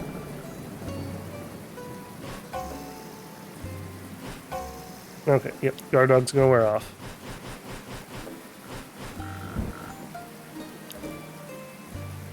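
Steady rain patters continuously in Dead in Vinland as a soft, even wash beneath the action, with someone talking over it and a brief burst of other game sounds midway.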